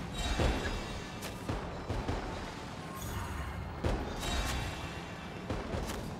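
Gunshots fired by a character in the video game Genshin Impact, a series of sharp thudding bangs spaced a second or so apart over steady game background sound.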